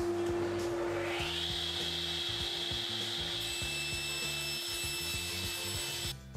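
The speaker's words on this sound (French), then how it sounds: "j'ai temporairement branché l'aspirateur en direct uniquement sur la scie." A saw whines at high pitch over a steady roar of vacuum suction connected directly to the saw, with rhythmic knocking and rubbing of wood throughout.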